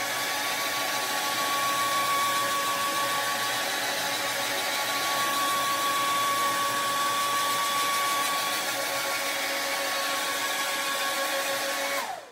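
A hot air tool blows in a steady, continuous rush over flannel fabric on the cool setting, holding a constant whine and airflow roar for the whole stretch before cutting off at the very end.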